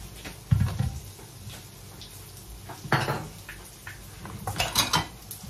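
Dishes, pots and pans being washed in a home kitchen while cooking vegetable lumpia, with dense clinking of cutlery and clattering crockery over running water, close and busy, occasional louder knocks, no talking.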